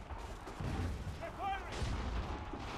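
Cannon volleys in the video game Assassin's Creed III boom and rumble through a dense, noisy battle soundscape, with heavy low thuds repeating across the short stretch.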